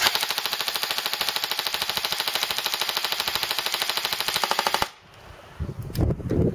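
A fully automatic burst from an airsoft gun loaded with a Beta Project P mag: a rapid, even, mechanical rattle of shots for nearly five seconds, close and loud, then cutting off to quieter handling noises.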